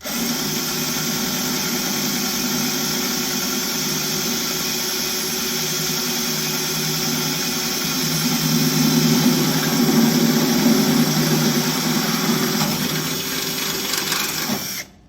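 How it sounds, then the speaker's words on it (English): A power drill with a 5/16 bit bores into a Weber Searwood 600 pellet grill, running steadily for about fifteen seconds, a loud continuous whirring grind that swells slightly partway through, then cuts off at the end. "wouldn't it just be a little bit easier to drill a hole?"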